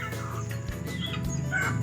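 Pet chickens and a duck cluck and chirp in short bursts before feeding, fairly close and moderately loud against a busy outdoor background.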